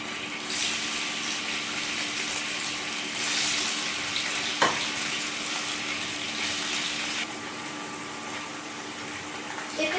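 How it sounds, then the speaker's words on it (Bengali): Paneer pieces fry in hot mustard oil in a pan, making a steady, moderately loud hiss that stays even throughout, with one faint clink partway and no talking. "তেল গরম হয়ে এসেছে এর ভিতরে আমি পনিরের টুকরোগুলো দিয়ে দেবো ভেজে তুলে নেবো"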